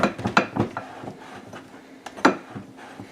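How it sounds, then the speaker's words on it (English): Butter is cut into dry ingredients for cookie dough, a run of close, uneven scraping and clinking strokes of a utensil against a bowl, some sharper hits standing out. "So I just want to get my butter cut into small chunks, mixed into my dry ingredients"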